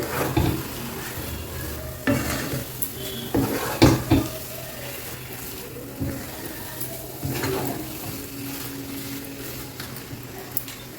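A spoon stirs ghee into milk upma in a pan, scraping and clinking against the metal with a few sharper knocks over a soft, steady sizzle.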